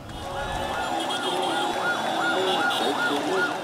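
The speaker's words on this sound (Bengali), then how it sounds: "সাইরেনের শব্দে ভারী হয়ে ওঠে ঢাকা মেডিকেল কলেজ হাসপাতাল এলাকা" Ambulance sirens wail near Dhaka Medical College Hospital, with several overlapping rising-and-falling tones sweeping steadily over loud street noise and a crowd murmur, fairly close and continuous throughout.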